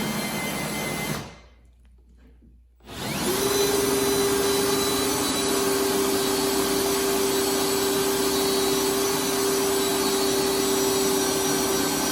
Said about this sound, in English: Now time to vacuum this whole thing and then shape this up.